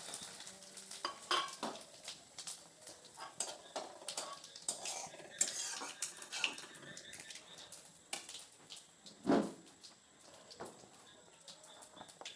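Dried red chillies, bay leaves and whole cumin dropped into hot oil for tempering, a faint crackling sizzle under frequent clinks and scrapes of a spoon stirring in a pan.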